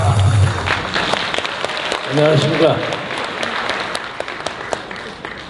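A crowd applauds at a March 1st national preparatory rally as a guest is welcomed, steady clapping beneath a voice over a loudspeaker that greets the audience.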